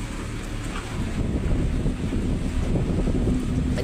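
Heavy rain driven by strong wind outside an empty house makes a loud, constant roar, with gusts buffeting the microphone and no talking.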